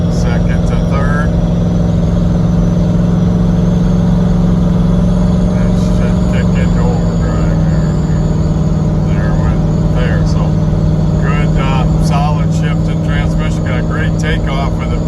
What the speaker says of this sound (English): Takeoff with a fuel injected 383, so pretty cool Blazer